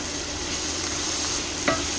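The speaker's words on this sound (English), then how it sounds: "it'll wilt the spinach, and we'll mix that around." Spinach being stirred into a simmering chicken, beans and greens soup in a pot, a soft continuous bubbling wash with one brief utensil knock near the end.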